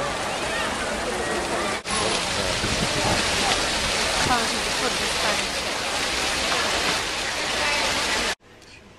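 Water of the Trevi Fountain in Rome rushes and splashes in a dense, continuous wash, close and loud, with a faint murmur of people beneath it before a sudden cut.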